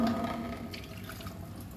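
Water pours steadily into a pot of chicken cooking on the stove, a short, close, continuous splashing trickle.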